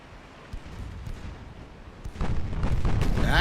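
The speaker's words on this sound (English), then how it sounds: "That was a fast moving friggin' torpedo." A torpedo strikes a warship and explodes in Ultimate Admiral: Dreadnoughts, a late-1800s naval battle game, sounding as a sudden heavy rumbling blast that swells and keeps roaring loud to the end after quieter background rumble.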